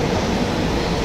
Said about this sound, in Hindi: मेट्रो आके खड़ी है।